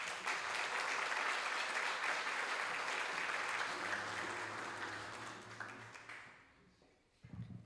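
Audience at a leadership luncheon applauding as a CEO is welcomed to the stage: dense, sustained clapping from a crowd that gradually thins and fades out, with a few voices at the end.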